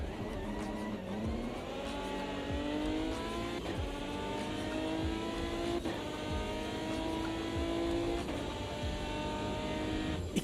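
An Aston Martin race car in a racing video game, its engine droning steadily and climbing through the revs with repeated gear changes, loud and close throughout with a faint tire squeal.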